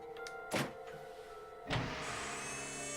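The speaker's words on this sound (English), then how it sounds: "I cracked open the top and lifted it back" Two mechanical whooshing, hissing releases, each followed by a humming motorized drone, as a sleeping pod's lid unseals and slides open in the video game Zero Escape: Virtue's Last Reward.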